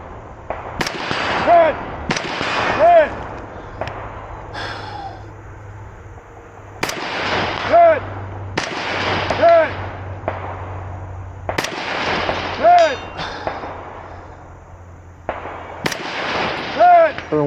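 Rifle shots fired at steel targets with 77-grain rounds during a shooting match, sharp loud cracks in clusters of two or three with gaps between, over a low steady hum.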